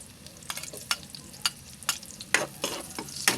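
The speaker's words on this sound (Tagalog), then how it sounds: "Luya muna natin igigisa mga badi para lumabas yung aroma niya." Ginger and onion being sautéed in a hot wok for chicken-neck adobo: a soft sizzle runs underneath while a spatula stirs and scrapes in sharp, irregular clacks, close and fairly quiet, with no one talking.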